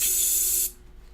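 An airbrush sprays paint in a loud, steady high hiss close up, cutting off abruptly after about two thirds of a second and leaving a quiet room.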